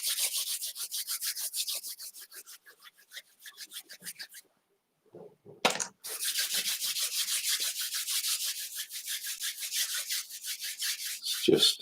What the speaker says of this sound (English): just rub your hands together